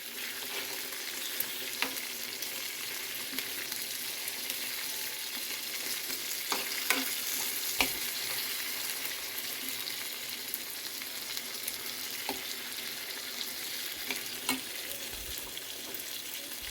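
Tomatoes and sesame seeds frying in a pan for Telugu tomato chutney, a steady broad sizzle with occasional scraping stir clicks throughout, close and continuous with no talk.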